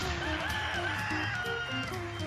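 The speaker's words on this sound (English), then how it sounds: "Roosters. I love roosters." Rooster crowing, several drawn-out calls layered over one another amid low background noise and clucking fowl, steady and fairly close throughout.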